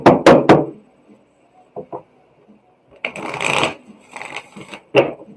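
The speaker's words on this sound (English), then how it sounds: "All right, so I'm going to shuffle real good for you" Tarot cards being shuffled in bursts of crisp riffling and knocking, with a few quick slaps at the start, quieter gaps, then a longer rustling shuffle and a final sharp tap.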